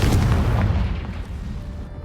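A Confringo fire spell blast in Hogwarts Legacy, a loud booming burst up close that rumbles and fades over about two seconds.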